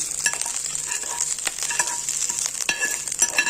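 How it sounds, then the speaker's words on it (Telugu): A spoon stirs and scrapes fried tempering through cooked rice for lemon rice, making repeated close clinks and scrapes over a soft sizzling hiss, with no talking. "ఇప్పుడు మనం రైస్లో వేసుకొని కలుపుకున్నాము"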